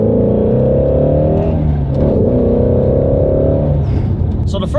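A Ford Shelby GT350 V8 with equal-length headers revs loudly up close, its deep, harmonically rich engine note rising and falling while it accelerates, with someone speaking briefly near the end.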